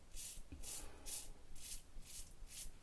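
Safety razor with a Gillette Nacet blade shaving with the grain on a first pass over thick, rich, creamy lather: a series of about six close, rhythmic scraping strokes, each a short bright rasp, with no talking.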